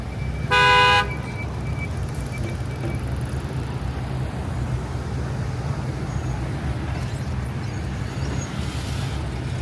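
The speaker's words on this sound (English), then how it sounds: "You can see all this traffic" One short car horn honk sounds near the start amid backed-up rush-hour traffic on Canal Street in Manhattan, followed by a steady rumble of idling and passing vehicles.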